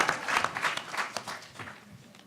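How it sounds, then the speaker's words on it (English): A short burst of applause from a crowd at a mayoral candidate roundtable, steady clapping that gradually thins out over a couple of seconds. "Yeah, you can clap."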